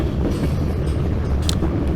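A freight train rolls past in a steady, continuous low rumble with faint rail clatter and a brief high squeal, close by and unbroken throughout.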